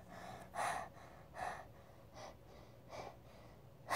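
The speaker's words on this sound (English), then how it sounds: "Why are you breathing so much?" Heavy, labored breaths after running, sharp gasping exhales coming in a loose rhythm about every second, fairly close and with no talking between them.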